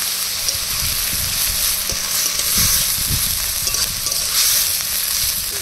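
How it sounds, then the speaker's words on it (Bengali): Onion paste and ginger-garlic paste fry in hot oil in a pan, a steady close sizzle with occasional scraping and stirring knocks throughout. "বেটে রাখা পেঁয়াজ দিয়ে এবার কষিয়ে নেব। দিয়ে দেবো আদা রসুন বাটা"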